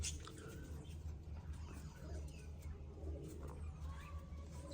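Pigeons in a home loft coo softly and steadily over a constant low hum, with faint rustling and no talk.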